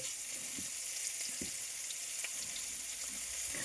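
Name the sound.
prawns frying in oil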